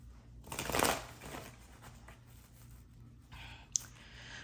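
A brief riffling burst of tarot cards being shuffled, followed by soft rustling and a small click, fairly quiet with no talking.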